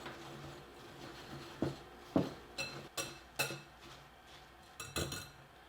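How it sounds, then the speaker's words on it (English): Flour, baking soda and salt are whisked together in a bowl, giving a quiet series of irregular light clinks and taps of the whisk against the bowl at close range. "And then with a whisk, we will whisk these together."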